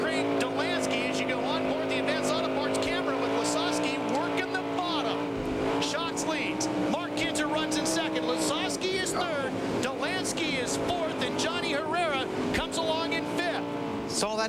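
Sprint car racing at the 2000 Knoxville Nationals A-Main, heard onboard Lasowski's car: a loud, continuous high-revving engine drone with shifting pitch and bumps, under steady commentary.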